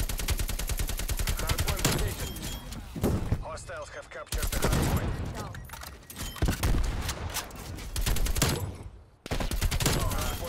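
Shotgun fire in the video game Black Ops Cold War, loud booming blasts mixed with rapid automatic gunfire in bursts, with short gaps and a voice talking among the shots.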